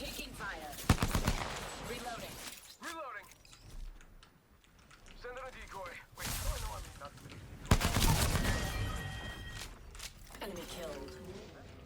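Gunfire in the battle royale game Apex Legends rings out in loud bursts and scattered shots, with a Peacekeeper shotgun mentioned, mixed with mechanical clicks and excited talk from players throughout.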